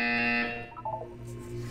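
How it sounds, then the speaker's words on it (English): A Portal 2 test-chamber buzzer sounds alone: a loud steady electronic tone for about half a second, followed by a short descending run of softer chime-like beeps over a low hum. "You will hear a buzzer. When you hear the buzzer, look up at the ceiling."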